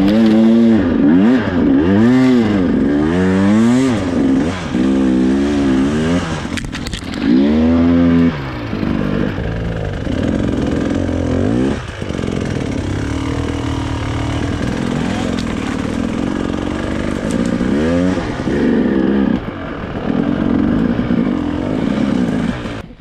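Enduro motorcycle at an off-road riding spot setting off and accelerating, loud close engine revving in repeated rising and falling surges, with a short voice early on.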